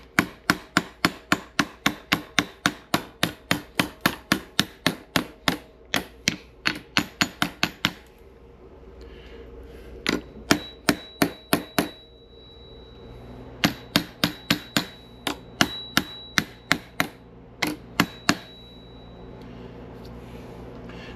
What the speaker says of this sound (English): Hammer, that's what I couldn't think of earlier.